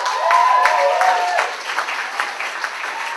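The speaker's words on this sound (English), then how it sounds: "Huge round of applause." Audience applause and cheering at a comedy show fill the room, loud and dense at first, then thinning into scattered clapping.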